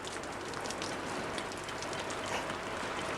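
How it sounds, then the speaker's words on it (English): Steady outdoor rain falling and pattering on surfaces, a dense continuous hiss at an even level throughout, with no voices. "Didn't know it was going to rain."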